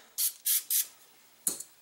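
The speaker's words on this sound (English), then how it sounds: "Now, because you're using this moly mist, I can spray oil over it" Oil sprays from a can over a moly-treated AR bolt in three quick hissing bursts, followed by a fourth short spritz, close and fairly quiet.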